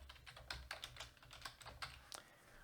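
Computer keyboard keys typed in quick, irregular bursts of close, crisp clicks while entering a business name on an online registration form, with no talking.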